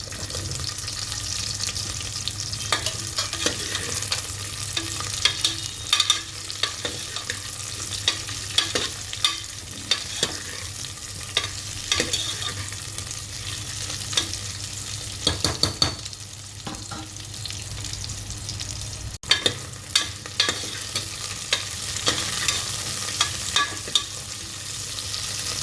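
Onion, eggplant, carrot and drumstick pieces fry for sambar rice, a soft continuous sizzle broken by repeated clinks and scrapes of stirring over about twenty-five seconds, with no voices.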